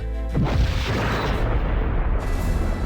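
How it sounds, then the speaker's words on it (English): A deep booming explosion erupts after a brief tone, followed by a heavy rumbling roar that lingers for a couple of seconds. "A final explosion rumbled through the ship"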